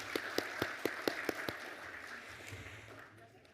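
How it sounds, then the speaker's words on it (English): Claps ring out at an evening Victorian Aboriginal Honour Roll presentation as a crowd applauds the Auslan interpreters, with a handful of sharp near claps over a softer spread that fades away. "so just a really big round of applause for them"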